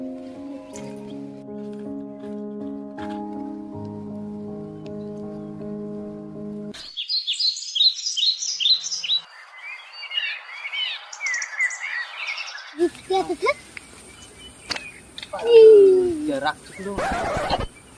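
Wild birds chirp and call in a rural forest setting, with bright bursts of tweeting and some louder calls alongside a tonal, musical passage and brief voices.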